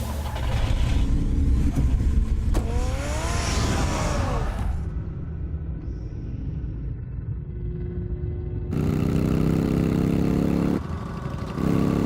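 A car engine rumbles and revs in Batman: The Telltale Series, loud and close at first, then fades to a quieter hum before a deep low drone returns near the end.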